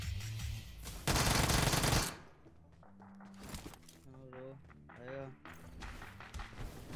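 Gunfire in the battle royale game BGMI: a loud close burst of rapid automatic shots, then quieter distant shots and footsteps while someone talks over it.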